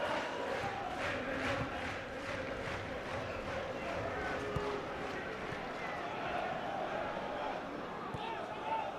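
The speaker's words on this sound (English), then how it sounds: "A few boos from the Charlton crowd" Crowd at a 2006-07 Charlton Athletic versus Arsenal football match, a few boos rising from the home Charlton supporters in a steady, distant stadium roar beneath someone commentator's continuous talk.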